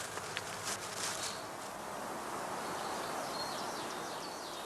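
Honeybees hum and buzz in a steady, dense drone around an old straw skep hive outdoors, with individual bees flying close past now and then.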